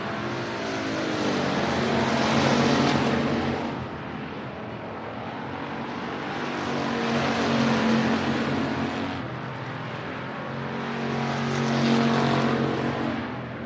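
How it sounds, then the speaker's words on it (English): Stock cars race at I-37 Speedway on opening weekend, engines roaring loud and rising in three long waves as the pack, three wide down the backstretch, sweeps past, with no talk. "they go 3 wide down the backstretch"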